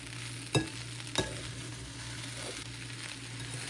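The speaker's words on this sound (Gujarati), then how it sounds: "હવે નાખીએ થોડુંક શુગર. મિક્સ કરી દઈએ." A spoon scrapes through bottle gourd muthiya as sugar is stirred into the pan, with two sharp clinks early on over a steady low sizzle.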